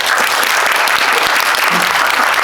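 An audience applauds in a cinema auditorium at a Megabox Coex guest-visit screening, with dense, sustained clapping that fills the room loudly and evenly throughout.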